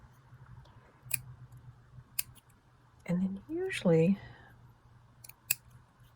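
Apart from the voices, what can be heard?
scissors cutting paper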